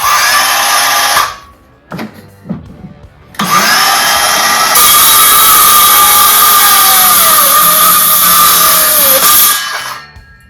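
A 6.5 inch Ridgid circular saw spins up with short bursts, then bites through a 2x4 in one loud, sustained cutting whine that strains and dips before winding down.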